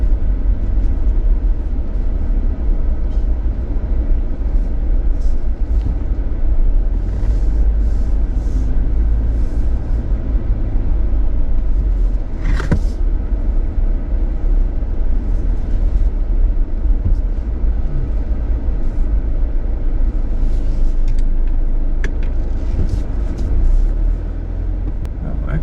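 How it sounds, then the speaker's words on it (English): A Jeep rolls into a packed, busy gas station, its steady low engine and road rumble filling the scene continuously, with a brief louder thump midway and faint background activity. "Okay, pulling in to get gas."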